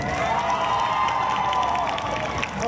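Spectators at a rural sheep shearing competition in Tenjo, Cundinamarca cheer and clap for a shearer, a dense, loud wash of applause and shouting voices that holds steady before easing slightly near the end.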